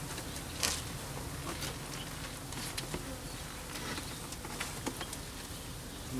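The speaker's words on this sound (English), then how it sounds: "Got still quite a bit of bees here in this box," Honeybees from a captured swarm buzz steadily inside a wooden hive box, a dense, even hum with scattered individual bees droning past close by, without any talking.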